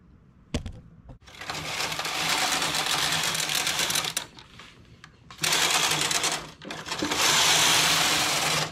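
A domestic knitting machine carriage works jacquard fabric at tension setting 6.2 with the MC button engaged and a second yarn colour in feeder B, giving three loud whirring, clattering sweeps separated by short pauses.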